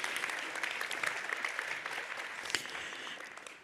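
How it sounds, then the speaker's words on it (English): An audience at the closing plenary of an electric vehicle symposium in Gothenburg gives a steady round of applause, dense clapping at an even level throughout that tapers slightly at the end, with no speech over it. "please give her a round of applause for this contribution"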